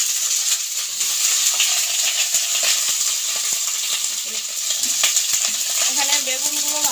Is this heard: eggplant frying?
yes